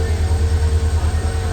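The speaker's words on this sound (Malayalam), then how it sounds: "ഇത് പാസഞ്ചർ ട്രെയിൻ അല്ല. ട്രെയിൻ പോകുന്നു." A sooty, grimy goods train passes on a forest line near the Goa–Karnataka border, a loud steady rumble with rhythmic low thumps of wheels over rail joints and a faint tonal whine above.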